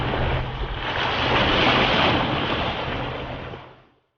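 Ocean surf breaking on a seashore in one broad, loud rushing swell that builds and then fades away over about four seconds, with no voices.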